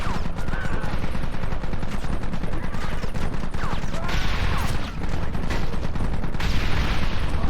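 Rapid bursts of Red Dead Redemption video game gunfire crackle continuously, dense and loud, with overlapping shots and a few sharp whizzing effects, like a shooter game firefight.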